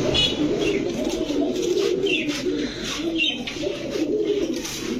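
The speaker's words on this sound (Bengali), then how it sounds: "কি সুন্দর কবুতর গুলা," Pigeons cooing, including big white racing birds, with repeated soft throaty coos heard close by over a continuous background murmur; no speech.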